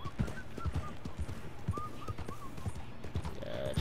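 Horse hooves clip-clop at a steady walking pace in Red Dead Redemption 2, a close, regular rhythm of hoof strikes beneath light game ambience, with faint tonal chirps scattered over it.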